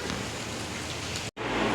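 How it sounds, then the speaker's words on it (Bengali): Steady rain falls outside during a day of continuous rain in Cuttack, a dense, even hiss that fills the scene and cuts out for a split second near the end before resuming. "সকাল কি কালকে রাত থেকে বৃষ্টি হয়েই যাচ্ছে, একটু থামছে একটু হচ্ছে"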